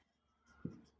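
A hand writes on a board, starting faintly with a soft scratch, then two short knocks of the marker or chalk against the surface.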